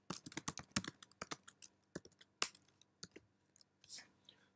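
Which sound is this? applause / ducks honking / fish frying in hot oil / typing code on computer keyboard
typing code on computer keyboard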